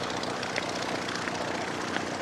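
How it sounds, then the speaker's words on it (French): Propeller airplane flying over an airfield, a steady far-off engine drone that holds through the whole stretch with faint rumbling texture and no talk. "il y a des avions partout"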